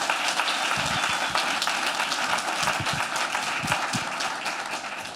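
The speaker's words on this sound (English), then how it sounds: "give them another round of applause." Audience at a community town hall on violence gives a steady round of applause, dense continuous clapping filling the room with a few louder claps near the front.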